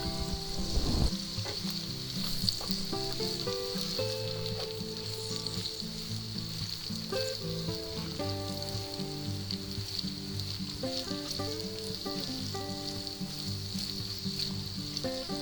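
Onions for a sausage, peppers and onions frittata sizzle and fry in a pan, a steady crackling hiss that continues the whole time, with a stir near the start and soft music playing beneath.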